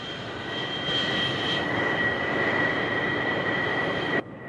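A video-game F-14 Tomcat taxiing across a runway, its loud, steady jet engine whine droning without a break before cutting off abruptly near the end, with no talking.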